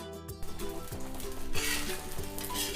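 Parotta dough sizzles in a little oil on a hot dosa griddle, a steady close crackling hiss with occasional light scraping knocks, growing brighter and louder partway through.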